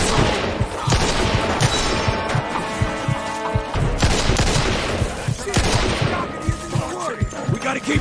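A close, loud Mafia 2 shootout: rapid gunshots and bursts of fire crack out in quick, uneven volleys, with sharp impacts throughout and occasional shouting.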